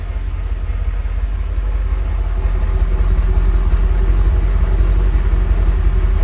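A 1989 Chevrolet Corvette C4 idles steadily behind the car, its exhaust giving a loud, low, continuous rumble with an even throb and no speech over it.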